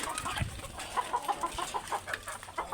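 Chickens cluck nearby in a steady series of short, repeated calls, fairly quiet, with faint farmyard background and no talking.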